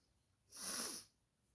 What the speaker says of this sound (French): Ça fait 3-4 jours que j'éternue.